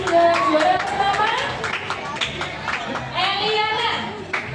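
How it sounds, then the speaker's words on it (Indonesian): An audience at a Sunday school Christmas celebration claps in a steady patter of applause, mixed with children's chatter and a voice speaking over it. "Kasih tepuk tangan juga."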